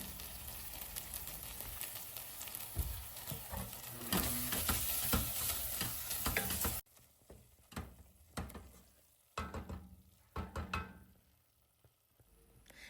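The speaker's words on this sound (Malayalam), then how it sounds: "ഈ തക്കാളിയൊക്കെ വഴന്ന് നന്നായിട്ട് എണ്ണ തെളിയണം അതുവരെ വഴറ്റി കൊടുക്കാം" Tomato masala with salt sautéing in a pan for mutton dum biryani, a loud sizzle with stirring scrapes for several seconds, then quieter intermittent clatters and stirs.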